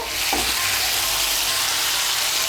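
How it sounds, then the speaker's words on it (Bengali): Vegetables frying in a pan for Bengali sukto hiss with a steady, loud sizzle while mustard paste is stirred in, the crackle holding even throughout with no talking. "সর্ষে বাটাটাও ভালো করে মিশিয়ে নেব।"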